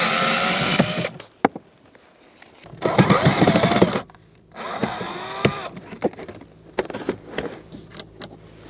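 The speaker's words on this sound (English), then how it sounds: "We are going to take out these 3 screws on the bottom of the glove box." Power drill whirring in bursts as it backs out the Phillips screws under the glove box of a 2010-2013 Kia Soul 2.0L, three close, loud runs separated by pauses, with light clicks and handling noises between.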